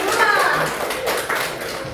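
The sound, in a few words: class applauding classmates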